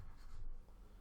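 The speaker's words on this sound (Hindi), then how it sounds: "जैसे मैं एक सेंटेंस लिखता हूं, मैंने लिखा" Chalk or pen writing a sentence during a class lesson, a short burst of faint scratchy stroking with no talk over it.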